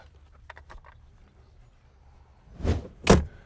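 A Polaris Xpedition side-by-side door is shut with two solid, close thumps in quick succession, the second the louder, following a few quiet clicks and rustles with no talking.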